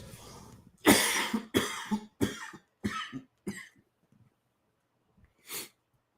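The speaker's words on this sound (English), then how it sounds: "hold on, I'm about to cough." A run of five or six sharp, loud coughs in quick succession, followed after a pause by one more isolated cough, close to the listener.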